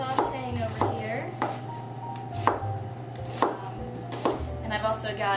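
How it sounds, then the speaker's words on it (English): A knife chops vegetables on a board for chili in steady, evenly spaced thuds, close and crisp over a low background hum and a faint kitchen clatter. "Just get these chopping and sauteing over here."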